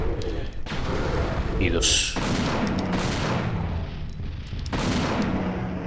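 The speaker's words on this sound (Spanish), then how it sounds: "Y pum. Pum. Listo. Tres tiros." Gunfire in the PlayStation game Dino Crisis 2, a few heavy booming shots and bursts that are fairly loud and close, mixed with game noise while someone speaks over them.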